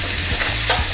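Ghee sizzles lightly in a pan as a steak is basted, a steady close hiss of frying with soft stirring and spoon scrapes mixed in.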